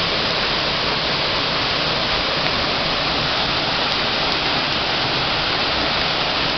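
The Blue Hole waterfall gives a steady, close, full-bodied roar of falling water that holds constant throughout, with no voices.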